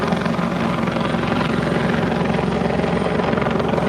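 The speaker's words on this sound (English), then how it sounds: "It's a police chopper." A police helicopter passes overhead above Coney Island beach at sunset on the Fourth of July, its rotor chop a loud, steady, continuous drone with no voices over it.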